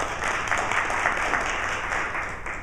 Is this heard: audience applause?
yes